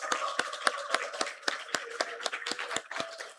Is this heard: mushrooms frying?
no